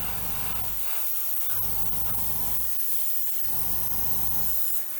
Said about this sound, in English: And then you just spray it along the edge.